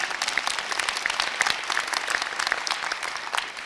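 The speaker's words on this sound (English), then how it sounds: "oh yes, applause, please" An audience at a spring undergraduate commencement ceremony breaks into steady, dense applause, the crisp clapping continuing evenly throughout without voices.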